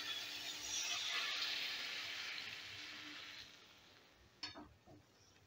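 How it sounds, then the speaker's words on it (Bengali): Water hits a pan of spiced lentil fritter curry, setting off a soft, rushing surge of sizzle that gradually fades, followed by a few faint stirring clinks. "এবারে দিয়ে দিচ্ছি জল"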